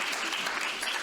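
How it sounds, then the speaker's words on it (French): Brief burst of dense audience applause for round-table panelists, an even, continuous wash of many hands clapping. "Et vous pouvez aussi les applaudir"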